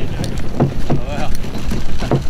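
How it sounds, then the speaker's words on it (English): Small boat paddled one-handed while fishing for crappie, soft splashing paddle strokes recurring at short intervals with light wind noise, close by. "I'm one hand paddling"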